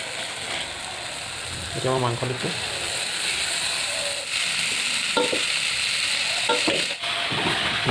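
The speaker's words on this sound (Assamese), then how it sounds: "এতিয়া মই মাংস দিছোঁ" Broiler chicken meat frying in a pan in a village-style kitchen, a continuous hiss and sizzle with stirring and scraping clatter, close and moderately loud, while a person speaks briefly over it.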